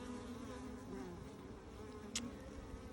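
Honey bees buzz steadily and faintly around a Flow Hive, with one brief louder pass partway through and no talking.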